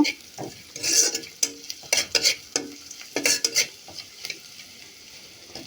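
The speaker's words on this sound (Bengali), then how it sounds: "এখন সব কিছু আর একটু বেজে নিব নাড়াচাড়া করে আর একটু বাদামি কালার করে নিব" Fish masala with turmeric being stirred and fried in a pan until brown, bursts of scraping stirs in an irregular rhythm over a sizzle, close and clear, with no talking.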